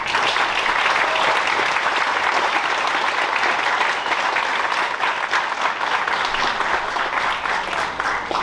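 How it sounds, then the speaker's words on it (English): Sustained applause from an audience at an honor graduation night, for scholarship recipients, a steady wash of many hands clapping that stays even and fairly loud throughout. "give our scholarship recipients one more round of applause"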